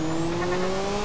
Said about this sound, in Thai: เสียงโบลั่นๆไปโบโบโบนี่เสียงเทอร์โบ